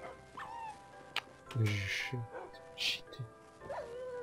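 A dog in Minecraft gives short yips and whimpering barks in several bursts, clear and close, with someone talking and exclaiming around them.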